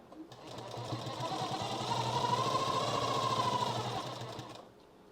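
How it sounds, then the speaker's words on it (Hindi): A sewing machine runs steadily for several seconds, stitching along the edge of fabric piping with a continuous whirring hum and rapid needle chatter, starting and stopping cleanly with no talk over it. "इस तरह से रख के सिलाई यहाँ पर पूरी चलानी है।"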